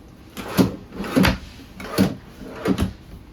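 A drawer in a camper kitchen slides open and shut four times in a steady rhythm, each pass a short, close rumbling clack with no voices.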